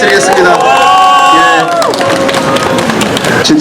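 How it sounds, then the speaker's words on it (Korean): Crowd at a Suwon candlelight protest rally breaks into loud cheering and applause, with shouting voices clustered close and strong, fading into scattered clapping. "다시 한번 큰 박수 부탁드리겠습니다"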